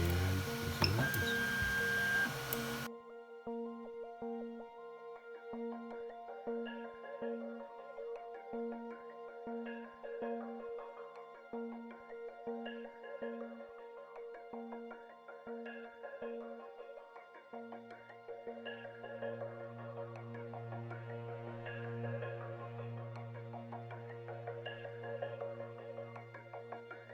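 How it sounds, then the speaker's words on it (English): A home-built 3D printer prints a calibration test cube, its stepper motors whirring and chirping in rapid repeating rhythmic patterns, with a steady lower hum joining partway through, close and fairly quiet after a brief louder opening noise. "loaded it up on the 3D printer's SD card, and pressed print"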